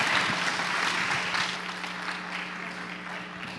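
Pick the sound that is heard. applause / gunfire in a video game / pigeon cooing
applause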